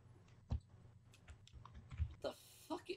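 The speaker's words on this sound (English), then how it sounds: "He's doing something with his keyboard because I can hear him click all over the place." Computer keyboard during a GTA roleplay flight session, scattered sharp key clicks and typing bursts, fairly close and quiet, with a brief voice near the end.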